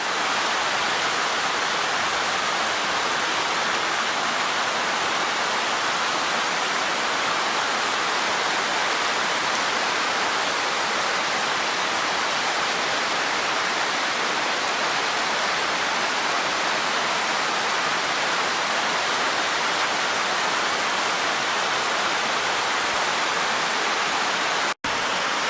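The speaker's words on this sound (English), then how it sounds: "Yeah, there's definitely a waterfall back here." Waterfall at Mill Creek Falls, a loud, constant broadband rush of falling water that fills the whole scene without pause, heard close and steady with no voices.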